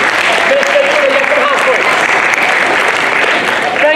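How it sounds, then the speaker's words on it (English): Loud, steady applause from an audience, including children, after a science demonstration, dense clapping filling the whole stretch with voices mixed into the crowd noise. "That was fantastic. Round of applause."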